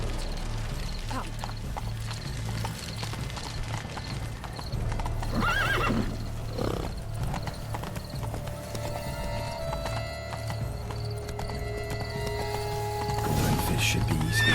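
A horse in The Witcher 3 gallops with rhythmic clip-clop hoofbeats and lets out whinnies, heard up close amid game ambience, with a brief voice in between.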